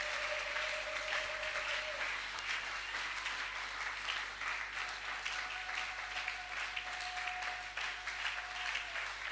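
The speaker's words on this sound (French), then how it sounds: "On peut acclamer pour la gloire de Dieu." A church congregation at a Sunday thanksgiving service applauding, a dense, sustained wash of many hands clapping at a distance, with a faint tone holding underneath.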